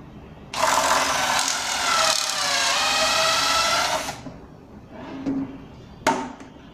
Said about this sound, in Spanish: Ya tenemos colocada el ajuste necesario tanto en la broca como en la plantilla y procedemos a perforar.